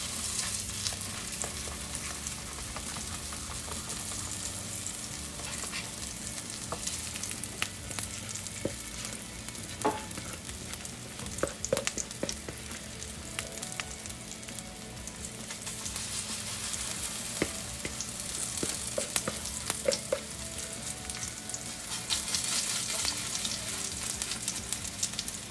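Pinto bean patties frying in a little oil in a pan, giving a continuous close sizzle with scattered pops and crackles, and no talking.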